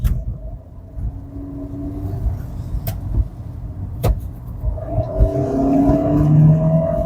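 A 2025 Kia Sonet EX subcompact SUV with IVT transmission accelerating in sport mode, a low engine rumble that builds steadily from inside the cabin, with a couple of sharp clicks along the way.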